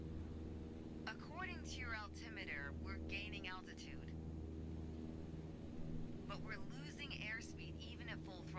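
In Microsoft Flight Simulator 2020, a light aircraft engine drones steadily at full throttle during a climb, and a voice talks over it.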